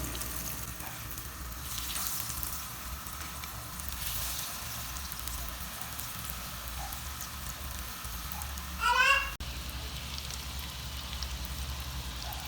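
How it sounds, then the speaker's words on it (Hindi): Vegetable kebabs shallow-fry in oil in a frying pan, giving a soft, even crackling sizzle throughout, with a short squeaky burst near the end. "अब हम इसमें एक एक करके कबाब डालते हैं और फ्राई करते हैं।"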